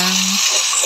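Frog meat stirred and frying with chili in a pan, a loud close sizzle with scraping stir strokes and a short tonal hum at the start.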